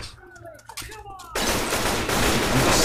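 Gunfire from the zombie shooter Left 4 Dead 2 breaks into a dense, loud continuous barrage partway through, after a quieter stretch of game noise and a shouting voice.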